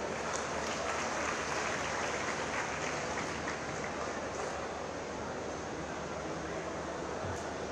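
Sustained applause from a large audience at a campaign launch event fills the space evenly, a dense continuous wash of clapping with no break.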